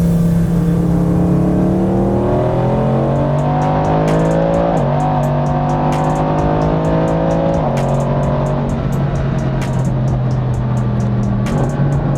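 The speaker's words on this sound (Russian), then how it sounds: "Машина очень уверенно ускоряется" A 1200+ hp twin-turbo Mercedes SLS AMG accelerates hard through several gears, its loud engine note climbing and dropping at each shift with crackling bursts, very close and steady with no talk over it.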